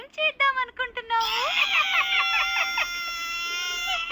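Cartoon girl Dolly cries: short sobbing bursts give way to a long, loud, wavering wail, close and alone, with no talk over it.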